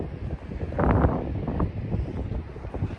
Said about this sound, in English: It's dead windy, so I'm just behind these sand dunes at the minute.